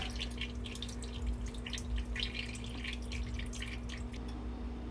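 Chile sauce for a beef mole de olla drips through a strainer in soft, irregular patters over a steady low hum, faint and close, with no talking.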